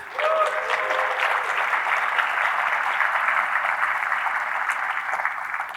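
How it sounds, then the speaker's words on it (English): A conference audience gives sustained applause for the Ruby Central staff at the RailsConf 2025 opening ceremony, a steady, dense wash of clapping from the hall lasting throughout with no talk over it. "Thank you all for clapping and welcoming."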